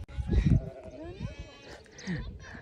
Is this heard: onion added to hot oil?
no